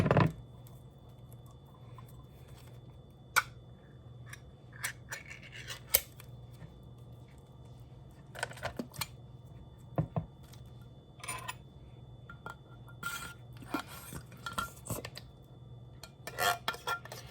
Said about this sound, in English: we add the can of cream of mushroom soup to the bowl